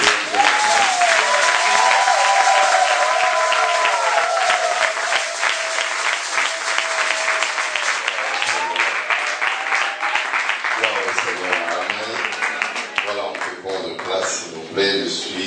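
A church congregation at a prophetic worship service applauds, with sustained, dense clapping from many hands carrying on throughout while voices sound over the crowd.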